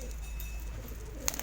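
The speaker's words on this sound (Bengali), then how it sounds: "এইগুলি সব বাড়ির কবুতর" Domestic pigeons kept at home coo softly and low in a short close-range stretch, ending with a faint flutter or click.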